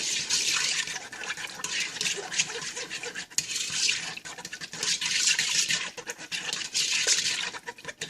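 A whisk beating Brunswick stew ingredients in a bowl gives a steady, fast scratchy swish with rhythmic surges, close and fairly loud, with no talking over it.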